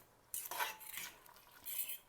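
Cooked meat for homemade cat food is stirred in a pan, a few close scraping and clinking strokes of a utensil against the metal, faint and brief.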